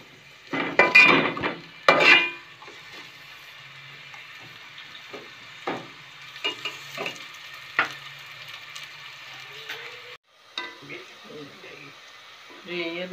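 Onions frying in a pan and being stirred, with a soft continuous sizzle broken by loud scraping and clattering of a utensil against the pan, and a voice speaking at times.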